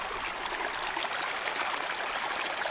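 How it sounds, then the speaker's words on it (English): A small mountain stream in Idaho trickles and babbles steadily at close range, a soft continuous wash of water with no voices over it. "I found that there's another stream."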